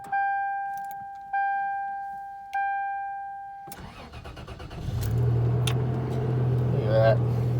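A 2008 Toyota Tacoma that has sat unused for six months: three electronic chimes ring out, then a rustle as keys are handled, before the engine cranks, catches and settles into a steady low idle close by.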